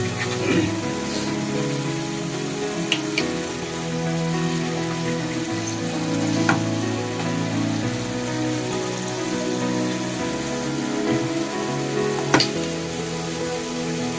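Pieces of chicken fry in a pan for butter chicken, giving a loud, steady, crackling sizzle throughout with occasional sharper pops and faint clinks, and no talking.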